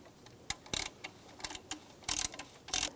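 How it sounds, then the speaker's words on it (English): A ratchet tightening a bolt on a 2004-2009 Subaru Outback during an A/C belt tensioner pulley job gives quick clicking bursts in irregular clusters, close and moderately quiet. "Now we're going to tighten this one."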